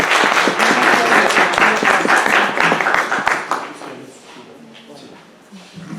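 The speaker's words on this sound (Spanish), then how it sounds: "Recibámoslo, por favor, con un fuerte aplauso." An audience at a medical lecture on gastric adenocarcinoma gives the doctor a strong round of applause that dies away midway, followed by quiet room sound and faint speech.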